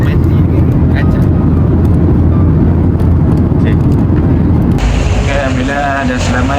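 A passenger airplane landing at Kota Bharu, Kelantan, roars loudly and steadily from inside the cabin, then the engine noise shifts abruptly as a voice begins speaking over it.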